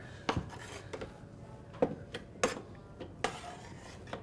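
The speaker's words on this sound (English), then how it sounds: "we're going to just take these and scoop them right in the food processor" Tomatillos are scooped into a food processor, making a series of sharp clinks and knocks against the bowl, about six distinct hits spread unevenly over a few seconds with quiet scraping in between.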